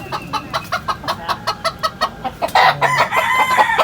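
Bantam chickens cluck in a steady series of short, close calls, then a rooster breaks into a loud crow that overlaps with more clucking at a rural poultry yard.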